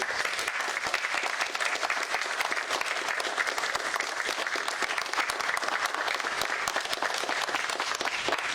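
Steady, dense applause from a seated audience honoring two astrophysicists at a West Virginia governor's event, continuous and even throughout with no talking over it.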